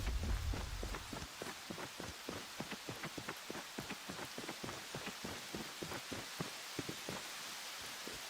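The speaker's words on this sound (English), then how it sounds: "Nope, here comes the rain." Steady rain patters on a surface, dense and even throughout, with a brief low rumble at the start and no voices.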